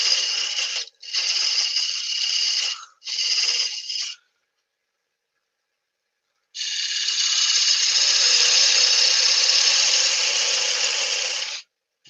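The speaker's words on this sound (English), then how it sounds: "Right, back to the parting tool again." A parting tool cuts into spinning wood on a lathe with a hissing, scraping whine: three short cuts in quick succession, a pause, then one long steady cut, loud and close.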